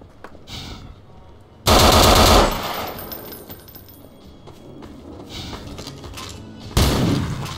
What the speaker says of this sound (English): the general purpose assault rifle